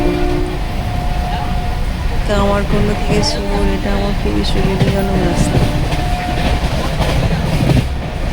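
A moving train rolls along toward Bardhaman with constant loud rumble, rhythmic wheel clatter and a steady carriage roar, while someone talks over it throughout.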